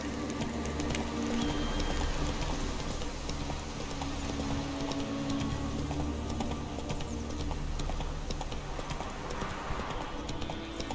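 Steady clip-clop of horse hooves on a mount ridden through a game world in The Witcher 3: Wild Hunt, a continuous even rhythm set against a dense, loud bed of ambient game sound and music.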